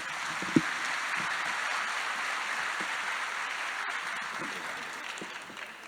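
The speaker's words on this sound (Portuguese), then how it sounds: "vocês recebam uma salva de palmas" An audience at a conference event gives a steady round of applause, a dense, even wash of clapping at moderate loudness with a few distinct claps near the start, under faint voices.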